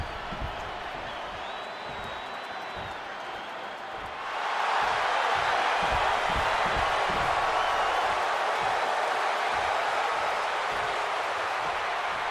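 Capacity crowd in a WWE 2K26 wrestling arena, a dull murmur with a high tone that suddenly surges into a loud, sustained roar of cheering midway and holds steady to the end.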